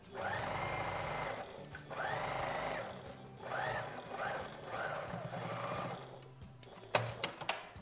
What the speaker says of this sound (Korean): 두 번 접으셔서 동그랗게 원통으로 봉제해서 마무리하겠습니다